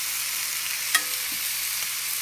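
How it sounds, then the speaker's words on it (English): Pork searing lightly in a pan gives a soft, steady sizzle close by, broken once by a brief utensil tap. "all you really want to achieve here is a little, there we go, just a light sear on the pork"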